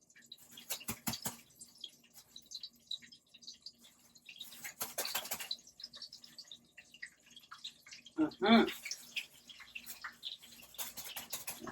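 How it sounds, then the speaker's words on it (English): Chicken hits hot oil with a sudden crackling sizzle, sharp bursts of spitting fat, and a brief voice speaking over it. "When I drop this chicken in, we should hear."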